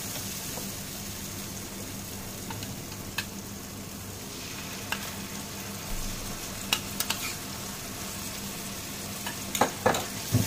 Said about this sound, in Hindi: अच्छे से आप मिलाते हुए कुछ सेकेंड दही को मिला लेंगे मसाले में